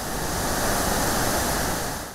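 Floodwater pours over a dam spillway after heavy rainfall, a dense, steady roar of rushing water filling the air evenly from start to finish, loud and unbroken, with no voices.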